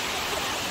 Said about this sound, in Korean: 여기 저 위에서 물이 내려오는 물이 이제 폭포 여기가 시작점이에요.